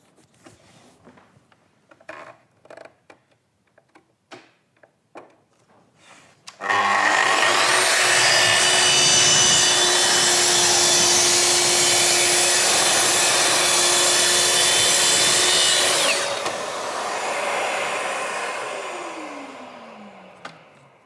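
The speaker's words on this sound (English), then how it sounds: "So for chipboard that's veneered, then we're going to set it on speed 5, and we can make a nice, consistent, easy progress through the cut" A Festool TS55 plunge saw on a guide rail cuts veneered chipboard at speed 5: a loud, steady high-pitched whine and rasp sustained for about ten seconds, after light handling knocks, then winding down.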